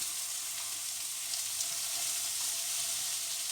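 Tofu frying in a pan gives off a constant hissing sizzle, even and close, with no voices.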